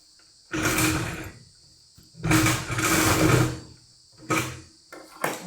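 Sewing machine stitching a doll's petticoat in three main runs of whirring mechanical rattle, each a second or so long, then two brief bursts. Close and fairly loud, with quiet pauses between runs and no talk.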